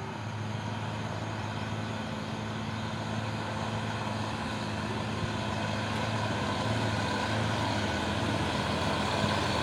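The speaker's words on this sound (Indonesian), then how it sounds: "Masuk lagi satu unit truk Pusoren" A Pusoren 4x2 truck rated at 220 PS reverses nearby, its steady low engine drone and broadband rumble running continuously and fairly loud throughout, with no clear reversing beeps standing out.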